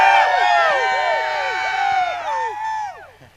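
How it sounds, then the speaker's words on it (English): Loud crowd cheering and whooping at a snowmobile hill climb on a mountain slope at Jackson Hole, many voices sustained throughout and fading slightly at the end. "We're in front of the noisiest crowd on the mountain."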